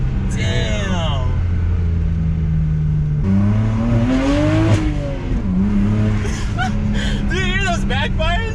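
Tuned BMW 335i engine revving hard from inside the car, rising and falling in pitch through the gears with a loud, constant drone, while people talk over it; individual backfire pops are not clearly distinct.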